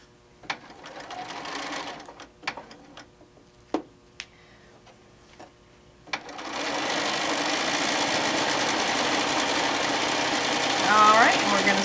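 A sewing machine stitching a fabric cover made from a camper-print panel, starting after a few scattered clicks and handling noises and then running as a steady, close mechanical whir to the end.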